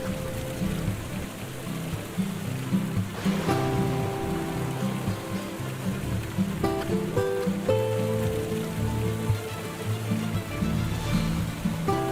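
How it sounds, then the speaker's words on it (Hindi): Steady rain falling on a village: a continuous, even patter with a soft melodic music bed playing underneath throughout. "2 दिन में ही गांव में बारिश शुरू हो गई।"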